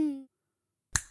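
A single crisp finger snap summons a genie in a Hindi kids' animated action cartoon. It comes after a short tonal voice-like note and a moment of silence, standing alone and close.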